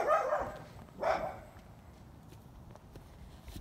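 Two short, sharp dog barks close by, about a second apart, followed by quiet background rustling.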